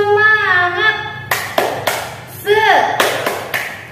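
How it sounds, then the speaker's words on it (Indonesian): A teacher leads children in a rhythmic patterned clap in a first-grade lesson: a few sharp, close hand claps spaced between sung or chanted voices. "Tepuk semangat."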